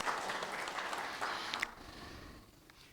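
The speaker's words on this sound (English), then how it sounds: "Many cheers and applause." A church congregation applauds and cheers in a dense, steady wash of clapping that fades slightly toward the end.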